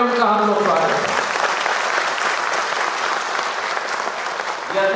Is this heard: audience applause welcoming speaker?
yes